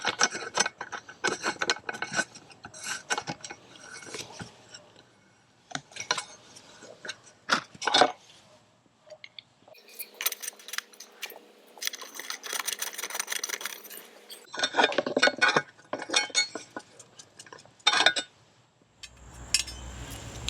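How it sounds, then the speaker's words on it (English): A 14mm wrench tightens lock nuts on a rear rack being fitted to a 2025 KTM 390 Enduro R motorcycle: close, intermittent metallic scrapes, ratcheting rubs and small clinks in bursts separated by pauses, with no voices. "you'll need a 14mm wrench to get back behind to hold the lock nut in place, and tighten those down"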